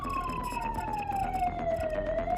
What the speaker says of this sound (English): The sirens wailed through Clearwater,